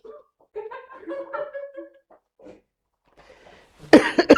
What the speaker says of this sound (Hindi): खांस ले तू जितना खांसना है